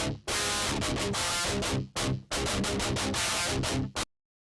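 Electric guitar reamped through a Hughes & Kettner Warp X amp with no cabinet, giving harsh, fizzy distorted chugs. Riffs run alone in bursts with abrupt stops and short gaps, ending on a final clipped hit.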